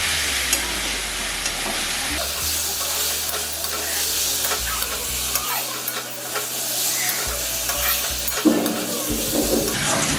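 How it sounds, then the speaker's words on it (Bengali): Potatoes tossed with chilli powder and spices in a pan for ghugni, a loud close sizzle with frequent stirring scrapes and clatter, no voices over it. "তো এবার আমি এটাকে মশলাটা আলুটার সাথে ভালো করে একটু কষিয়ে নেব।"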